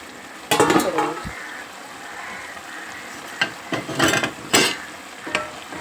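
Raw banana curry cooking in a pan, with soft sizzling under intermittent stirring, scraping and clinks of a spoon against the pan in irregular bursts, close and fairly quiet.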